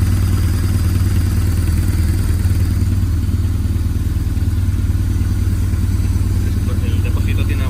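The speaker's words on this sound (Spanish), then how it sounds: "Tiene ralentí perfectamente." A BMW R1100 GS motorcycle engine idles steadily and close by, a constant even throb with no revving for the full length.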